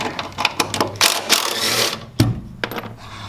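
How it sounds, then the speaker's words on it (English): An impact driver spins off the 10mm strut top nuts on a SAAB 9-5, loud close whirring and rattling hammering in several bursts with brief pauses, one sharp clunk near the end. "3 10mm nuts up top to take the strut off. I use an impact driver."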